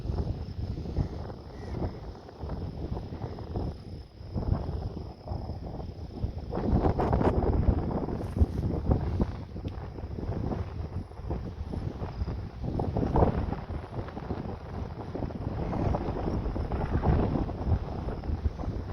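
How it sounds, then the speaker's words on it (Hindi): Continuous wind buffeting a microphone outdoors at evening near Mangla Dam, a low rumbling rush that swells and eases in gusts throughout. "हवा चली रही है"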